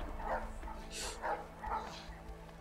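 A dog in the video game A Way Out barks and yips in several sharp bursts at close range, with a whimpering edge, over game background sound.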